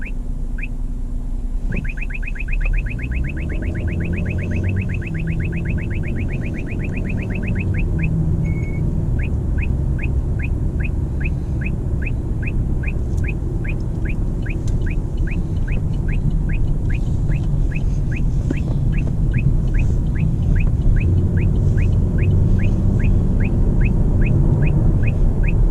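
Inside a moving car, a Uniden R7 radar detector gives an alert: a fast burst of high beeps, then a steady series of single chirps repeating about twice a second over low road rumble.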